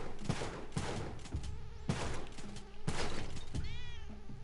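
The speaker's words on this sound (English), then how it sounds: "I hear a cat." Cat meowing inside the video game Spelunky 2, a rising-falling mew near the end amid loud bursts of game gunfire and thumping effects.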